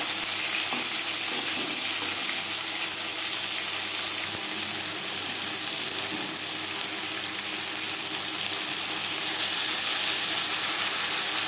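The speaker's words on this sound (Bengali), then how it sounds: "বোয়াল মাছ ফাটে, সাবধানে ভাজতে হবে।" Boal fish frying in hot oil, giving a steady, dense sizzle and crackle that stays close and constant throughout, with no voices.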